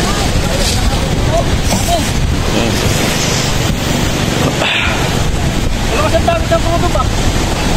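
Loud, constant rush of big ocean waves and wind buffeting the microphone from a boat at sea, its engine rumbling underneath and a voice talking faintly at times.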